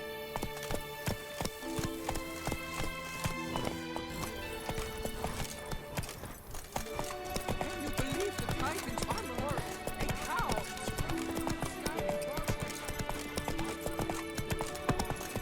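Roach, the horse in The Witcher 3, gallops with steady clip-clop hoofbeats and a brief whinny, running under game music and spoken voices throughout.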